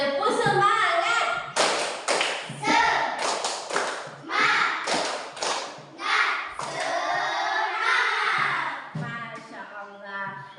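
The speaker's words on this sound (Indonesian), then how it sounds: "Tepuk semangat." Students standing in a classroom do a rhythmic spirit-clapping chant, with sharp sets of claps alternating with loud, close group chanting in a steady patterned beat.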